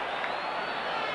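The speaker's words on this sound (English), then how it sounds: "getting a great round of applause from the Atalanta fans" Atalanta football fans in a stadium applaud good defending during a 1992-93 Serie A match against Milan, a continuous broad wash of crowd clapping and noise across the whole moment.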